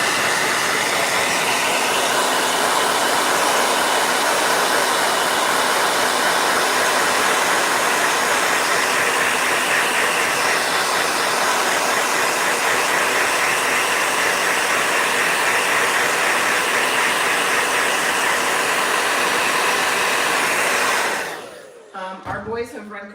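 A handheld blow dryer runs loud and steady for about twenty seconds, a constant whooshing motor roar that cuts off abruptly near the end, leaving quiet handling noise.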